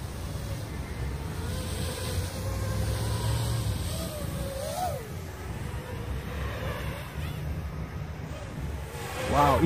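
A Furibee X215 quadcopter drone flying outdoors, its motors whining in shifting pitches as throttle rises and falls, a steady buzzing hum with a sharp surge at the end, heard from a short distance.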